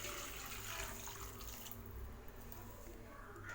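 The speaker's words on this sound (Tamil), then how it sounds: "இப்போ இதில் நம்ம குழம்புக்கு தேவையான அளவுக்கு தண்ணி ஆட் பண்ணிக்கலாம்" Water pours steadily into a pan of Tamil egg drop curry (udaitha muttai kulambu), a continuous close splashing rush that softens and thins toward the end.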